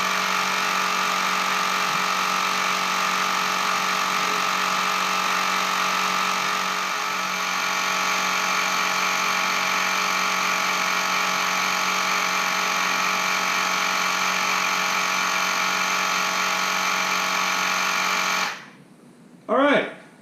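An Airmoto portable air pump runs continuously and steadily as it inflates a flat tire toward 40 psi, a loud, close mechanical drone that cuts off near the end.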